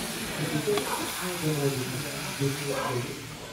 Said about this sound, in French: Et là, on touille.